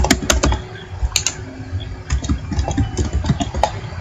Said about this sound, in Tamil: ஃபார் எக்ஸாம்பிள் இப்போ நான் டைப் பண்ணுறேன்